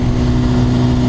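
Stock-exhaust motorcycle engine running close up with a steady, loud mid-pitched drone held evenly throughout, with no talk.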